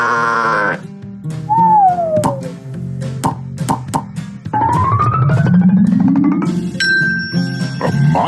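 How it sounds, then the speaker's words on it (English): A farm sheep bleats loudly and nearby with a few wavering calls. Bright playful music tones and jingles from a children's farm-animal lesson play around the bleats. "A sheep!"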